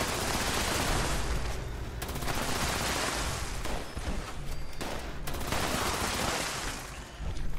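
Bursts of rapid automatic fire from the Junkies Explosive Gatling Laser in Fallout 76, a dense crackling stream in three or four long volleys separated by short gaps.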